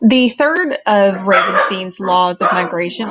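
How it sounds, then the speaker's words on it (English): Several dogs bark and yip repeatedly in short bursts close by, loud and overlapping with a person speaking throughout. "you can hear my dogs in the background."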